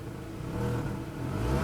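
Engine of a 2007 Volkswagen City Golf revving, a steady mid-pitched engine drone that climbs slightly in loudness, close and continuous with no talking.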